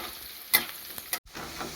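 Onions sizzle in hot oil in a pan, a soft frying hiss interrupted by a couple of sharp spatula scrapes and a brief dropout before the sizzle resumes.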